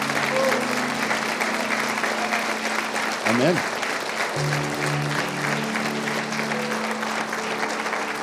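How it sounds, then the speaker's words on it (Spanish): Congregation applause in a Spanish-language church service welcoming new believers, steady clapping from many people under music and a preacher's voice, with a brief spoken word from the pulpit. "Dale un aplauso."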